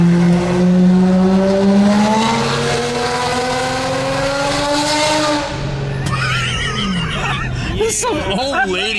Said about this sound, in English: Rev it, rev it, rev it, rev it.